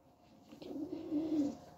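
Domestic pigeons cooing softly in a loft setting, a low, rolling murmur that swells in the middle and peaks near the end, fairly quiet and without speech.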